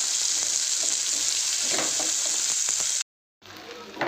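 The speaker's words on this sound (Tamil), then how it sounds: "வெங்காயம் நல்லா வதங்கிருச்சுங்க." Onions sizzle and fry in a pan while mutton chukka is being cooked, a steady close crackling hiss with light stirring scrapes, cutting out briefly near the end before resuming more quietly.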